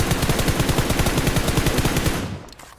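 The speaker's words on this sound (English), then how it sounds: "Some good shooting." Rapid automatic gunfire in a video game shootout, a steady rattling stream of shots lasting over two seconds before it breaks off into a few scattered cracks.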